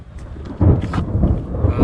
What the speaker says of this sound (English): That rain's coming down, brother.